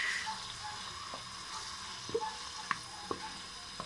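Mung bean sauce (Malagasy tsiasisa) with added condiments is stirred in a hot pan. A soft, steady sizzle runs throughout, broken by a few faint scrapes from the spoon, quiet and close.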